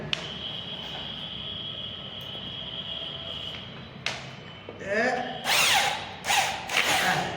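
A power drill drives screws into a metal channel for a false ceiling board during dining-room board installation, giving several loud, rising whirring bursts in the last few seconds after a quieter stretch of background noise.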